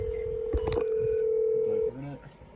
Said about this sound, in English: So I'll just dial the phone from this one.